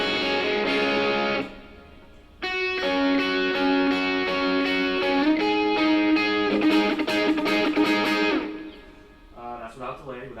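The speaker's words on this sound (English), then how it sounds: "I want you to hear what this is the SD1 model in the Axe FX." Electric guitar played through the SD1 overdrive model on an Axe FX processor, with no delay or parametric EQ, giving sustained, distorted chords and notes loud and close, with a short pause early and a fading tail at the end.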